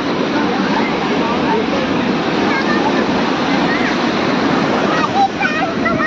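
Sea waves break and wash steadily at Juhu beach in Mumbai, a loud, continuous roar of surf with some wind noise on the microphone. No pauses or talk break it.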